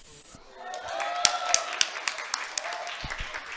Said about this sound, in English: A last round of applause for our panelists.